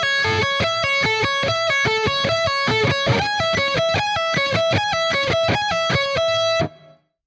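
A slowed-down metal electric guitar lick with pull-offs, in a shred style, heard as a quick, even run of bright distorted notes, up close and loud with no talk, ending with a sudden stop.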